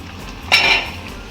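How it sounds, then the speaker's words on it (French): A utensil clinks once against a cooking pot while okra sauce is stirred, a single short metallic knock followed by faint scraping in a quiet kitchen. "Je mélange un peu."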